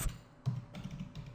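Keys tapped on a computer keyboard while writing JavaScript code, a few quiet separate keystrokes and short bursts, close and soft with no voice.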